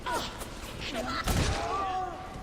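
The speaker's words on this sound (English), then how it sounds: "Looks like our turrets are working really nicely." Automated turrets firing during combat in the video game Bioshock, bursts of gunfire and booming thuds mixed with game sound effects, fairly loud in a busy soundscape.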